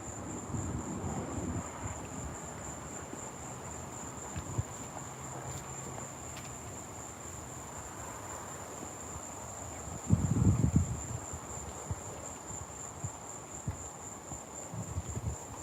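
Crickets chirp in a steady, high, continuous trill through a night scene, moderately loud, with faint background noise and a brief rustling burst partway through.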